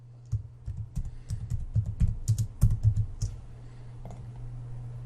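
Typing on a computer keyboard, a quick irregular burst of close, crisp key clicks that slows and fades into quiet near the end.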